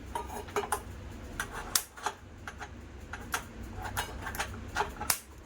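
A gas stove igniter is clicked over and over to light the burner, giving sharp, close ticks at an irregular pace, some louder than others, with no talking.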